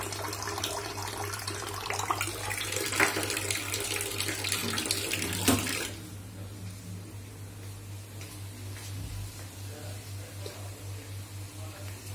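Water runs steadily from a filter tap, a loud continuous hiss for about six seconds, then drops to a quieter trickle over a low hum.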